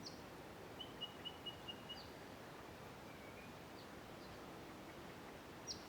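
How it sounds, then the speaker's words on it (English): Several small wild birds chirp faintly in the distance in the Riverland, including a quick series of high tweets, over a steady soft outdoor hiss with no talking. "you could probably count 15 to 20 different birds just from the noises that you can hear"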